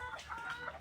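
Soft clucking from a chicken, a few short throaty notes in a row, fairly quiet against a faint background hum.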